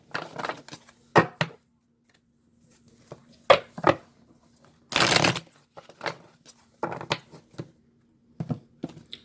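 A deck of tarot cards is shuffled in short, crisp riffling bursts and soft taps, several quick flurries separated by quiet gaps, heard up close.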